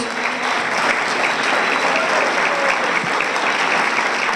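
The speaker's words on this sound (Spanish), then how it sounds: "¡Fuertes los aplausos!" An audience at a youth forum where adolescents present their proposals breaks into sustained, loud applause, a thick and even patter of many hands that keeps going for several seconds without talk.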